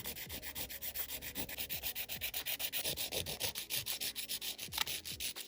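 A nail file rhythmically reshaping long polygel nail extensions, quick regular back-and-forth rasping strokes close up and fairly quiet, about five or six strokes per second, with no talking.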